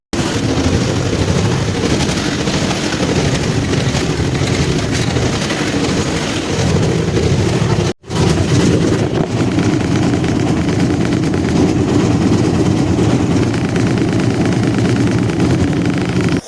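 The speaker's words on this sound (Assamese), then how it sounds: "আপোনালোকে চাগে শুনিবলৈ পাইছে মোৰ টেম্পুখন এতিয়া বৰ্তমান ষ্টাৰ্ট হৈ গ'ল।" Three-wheeler tempo engine idling after a rope-pull start, a loud continuous rattling drone close to the microphone with one momentary dropout midway, no voices.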